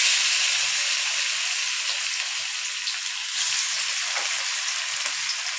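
Fennel seeds frying in hot oil for chicken 65 give a steady, soft sizzle and crackle throughout, fairly quiet and even, with no voices.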